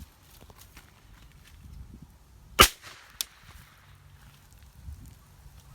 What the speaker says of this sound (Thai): ยิงนัดหนึ่ง